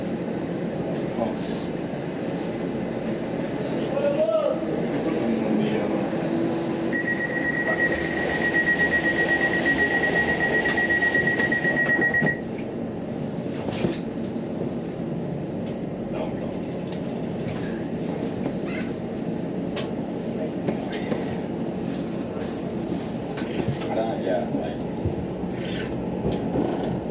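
A London Overground Lioness Line train runs toward Watford Junction with a steady rumble and rattle, a high electric whine rising and then dropping away midway, and voices occasionally heard.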